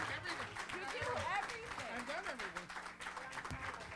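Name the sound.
audience applause welcoming comedian to stage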